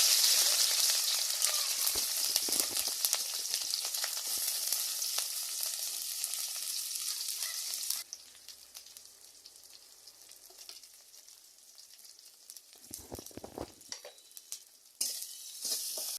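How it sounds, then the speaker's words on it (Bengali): Cabbage fries with cumin in a pan, giving a loud, steady hiss that drops to a quieter sizzle halfway through. Occasional stirring scrapes break in, and no one speaks. "জিরা দিয়ে এই কপিটা আমি ভাজি করব"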